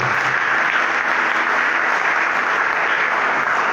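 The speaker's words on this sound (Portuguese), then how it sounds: "Vamos aplaudir ao Senhor, irmãos." A church congregation claps in a dense, steady roar that holds evenly from start to finish, with no voices rising above it.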